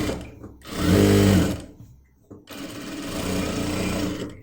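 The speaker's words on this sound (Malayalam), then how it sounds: "നന്നായിട്ട് ഇതുപോലെ വലിച്ചു പിടിച്ച് സ്റ്റിച്ച് ചെയ്യാം" A sewing machine stitches the side of a kurti slit in two close whirring runs, the first louder and the second steadier, separated by a short pause. A voice talks over the stitching.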